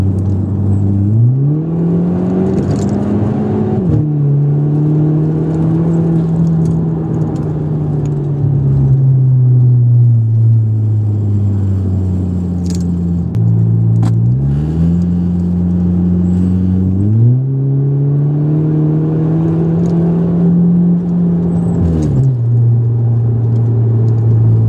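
A car engine holds a steady close drone on a public road, its pitch climbing, dropping back and rising again as it accelerates through several gears.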